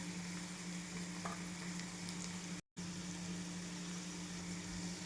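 Onion with ginger-garlic paste frying in a pan for a long-bean curry, a faint continuous sizzle with a steady low hum underneath and a brief dropout midway.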